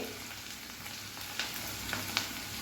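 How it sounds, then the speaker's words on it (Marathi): Onion and cumin sautéing in oil for Marathwada misal, a soft, fairly faint steady sizzle with a few light scrapes of a spatula and no voices. "कांदासुद्धा आपल्याला हलका असा गुलाबी रंगावरती हा परतून घ्यायचा आहे"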